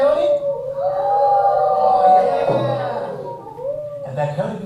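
A group of people mimics a coyote howl, several voices rising and sliding together in a sustained wavering cry that carries for several seconds, loud and close.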